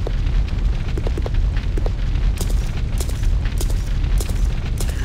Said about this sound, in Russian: Ну, я сюда не пройду. Тут огонь.